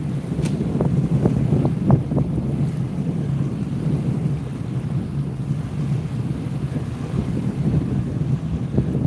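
Wind blowing steadily across a cliffside fishing spot at Haystack, a constant low buffeting roar against the microphone with some gusty thumps early on and a faint wash of surf below.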